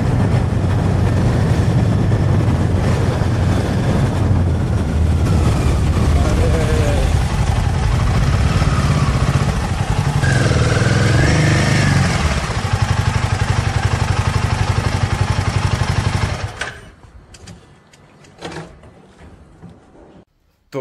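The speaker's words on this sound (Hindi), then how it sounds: "बाइक बड़ी शांत शांत सी साउंड कर रही है" A Royal Enfield Himalayan 450 motorcycle engine, freshly oil-changed at 5000 km, runs steadily and loud up close for most of the clip, then cuts off, leaving quiet with a few faint knocks.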